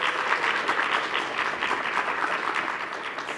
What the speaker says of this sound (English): Big, big applause.